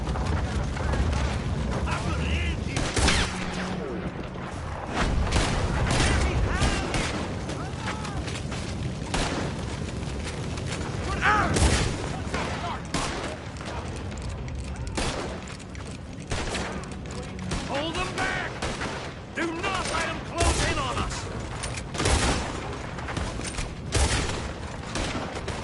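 Heavy gunfight in Red Dead Redemption 2, with dense rifle and pistol fire, booming blasts and rapid volleys cracking near and far throughout, while voices shout over the shooting.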